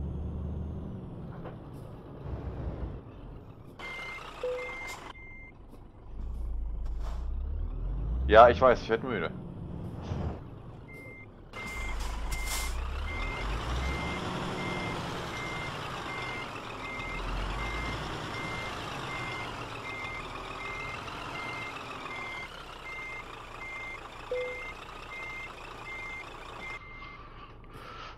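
Repeated reversing beeps from a truck in Euro Truck Simulator 2 as it backs in beside another lorry, steady through most of the stretch with air-brake hisses and engine rumble, while someone talks over it.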